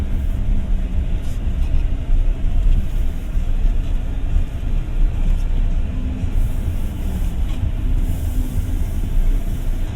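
A Jetour Dashing SUV rolls over a brick road, giving a steady low rumble of tyres and cabin noise with no distinct bumps, continuous and close from inside the cabin.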